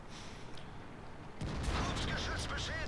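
A tank gun fires in the video game World of Tanks, with one sharp, loud blast after a quiet stretch, followed by a lingering rumble and mechanical clatter.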